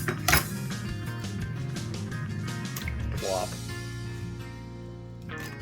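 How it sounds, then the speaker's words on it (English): Potatoes are dumped into a cooking pot for a Spanish chicken stew, a sharp clattering thud near the start followed by scraping and metallic clinks, with talking throughout. "Dump all your potatoes in the pot."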